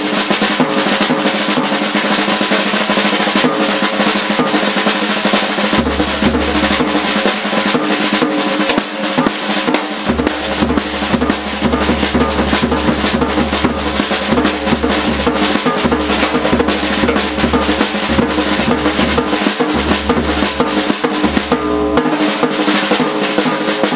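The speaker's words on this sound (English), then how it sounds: "I'm using just different paradiddle diddles to make up the sound." A drum solo built from paradiddle-diddle stickings on a kit, loud and dense, with rapid continuous strokes and booming low bass drum passages that come and go throughout.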